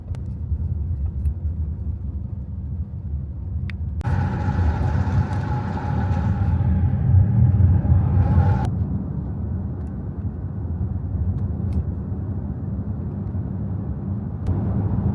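A car drives through hilly countryside near Galashiels in the Scottish Borders, giving a steady, close engine and road rumble that swells slightly midway and runs on without a break.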